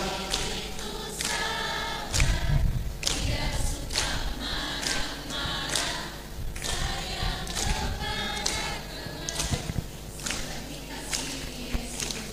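A church congregation claps hands while singing, a run of sharp claps at an irregular, loose rhythm over a background of voices and music, moderately loud and close.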